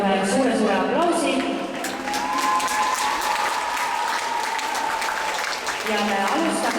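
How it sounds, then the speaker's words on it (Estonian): Audience applauding rhythmic gymnastics competitors at a Tallinn championship award ceremony, loud continuous clapping with scattered cheers while voices talk over it. "Teeme neile veel kord ühe suure aplausi."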